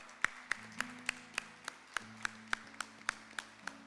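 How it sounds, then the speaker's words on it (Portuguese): A community group claps in slow, even unison, with sharp separate claps about three per second over a soft humming tone in the background. "Vamos dar uma salva de palmas para ele"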